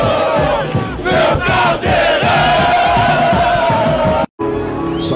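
Vasco fans chant loudly in unison at São Januário stadium, a dense, roaring crowd sustaining a rhythmic song with a brief drop near the end.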